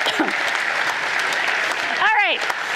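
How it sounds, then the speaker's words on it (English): An audience at a church commissioning service claps steadily for the whole stretch, a dense, even wash of applause with a brief whistle or cheer rising near the end. "Give them another round of applause."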